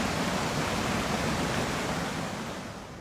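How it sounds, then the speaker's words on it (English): A raging flood-swollen river roars down a stretch of valley, a dense continuous rushing wash that stays loud and unbroken throughout before easing slightly at the end. "it's built itself, well, a raging river roaring down that stretch of valley"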